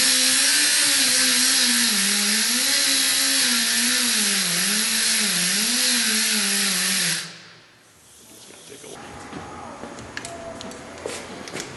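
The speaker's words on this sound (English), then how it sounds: "I'm going to hold this grinder in a parallel" An angle grinder grinds down the head of a rear subframe bolt on a car, held parallel to the tire. A loud, steady, wavering whine runs for about seven seconds, then cuts off, leaving quieter scraping and handling noise.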